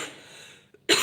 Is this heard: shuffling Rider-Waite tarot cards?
no